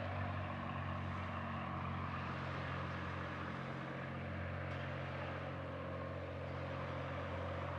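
A floatplane flies low over a New Zealand lake, its steady propeller and engine drone holding at an even, moderately loud level for the whole stretch, with no voices over it.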